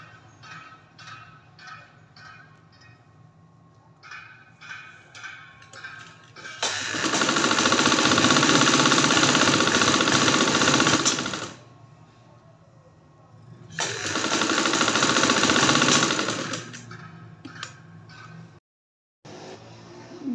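A sewing machine runs two long, loud bursts of stitching to gather fabric for a one-year-old girl's garara, separated by a pause, with quieter handling and fabric sounds around them.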